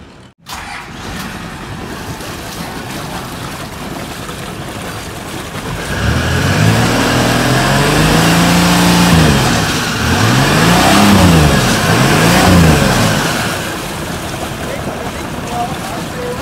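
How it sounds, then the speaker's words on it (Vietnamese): A restored mini yacht with a newly installed engine and no propeller fitted runs loudly, its engine rising and falling in pitch as exhaust and cooling water spray out with a steady rushing hiss. "Đó là cái hơi máy với cái nước giải nhiệt nó phun ra, chứ không phải chân vịt phun ra nha."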